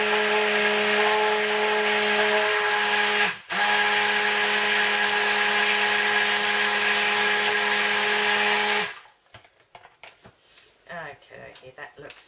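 A blender whirs loudly and steadily, mixing soap batter of cocoa butter, shea butter, olive oil and rice bran oil. It dips briefly once, then cuts off near the end and leaves quieter handling sounds.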